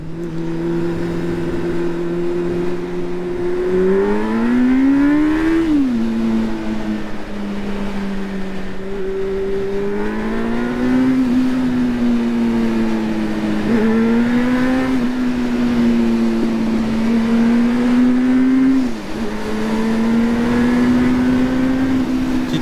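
A motorcycle engine on a ride through the mountain roads of the Gorges de la Bourne drones loudly and close, its pitch rising and falling through repeated revs and gear changes with no talking.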